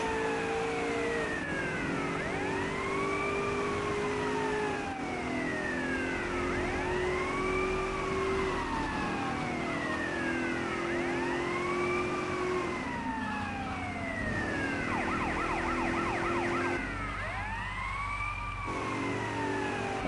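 Police car sirens in the video game GTA Vice City wail in repeating rising and falling sweeps over a continuous engine drone, loud and close throughout the chase, with a brief warbling change near the end and no talk.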